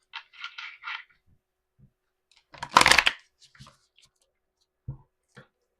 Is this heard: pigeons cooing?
no